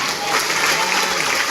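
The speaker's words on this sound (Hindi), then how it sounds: "ताली बजाओ ना।" Audience applause at a Hindi Christian church sermon, a dense, steady wash of many hands clapping together, loud and continuous throughout with no speech on top.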